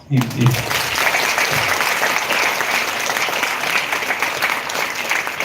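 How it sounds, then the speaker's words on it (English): Loud, sustained audience applause at a college women's empowerment event, dense clapping filling the whole stretch, with a brief voice at the very start. "And why don't you clap?"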